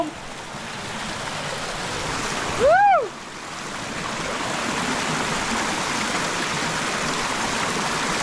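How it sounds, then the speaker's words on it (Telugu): Water rushes in a steady, broadband roar from a forest waterfall near Srisailam, with a brief whistling call rising and falling over it near the middle. "మనకైతే ఫారెస్ట్లో జలపాతం"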